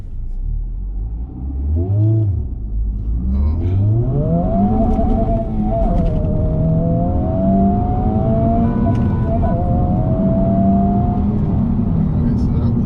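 A car launches from a stop in race mode with traction control off. A low idle rumble swells into a rising engine roar that climbs steadily in pitch, loud and near, and holds the strained pull to the end.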